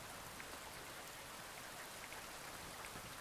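Steady, even rain falls in the cozy convenience store video game inKONBINI. It is a constant, soft hiss of raindrops hitting surfaces with no break, and no voices are heard.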